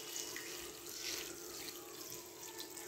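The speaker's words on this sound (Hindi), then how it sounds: "अब यहाँ पर हम पानी ऐड करेंगे" Water poured into a pan of quail korma (batair korma), a steady rushing splash under low kitchen background noise, continuous and moderately close.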